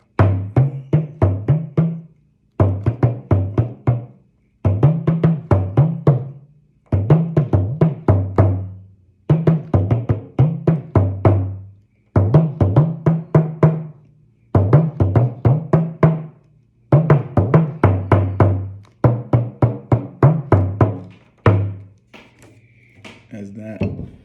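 Munẹnẹ, a tuned percussion instrument, played in short repeated phrases of quick wooden pitched strikes, loud and close, with brief pauses between bursts.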